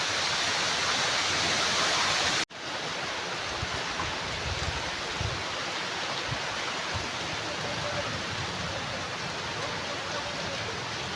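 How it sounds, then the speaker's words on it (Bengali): Heavy rain pours steadily in a storm on a rooftop garden, a dense, loud hiss with wind, briefly cut near the start and then continuing unbroken. "বৃষ্টির থেকে বেশি হচ্ছে ঝড়"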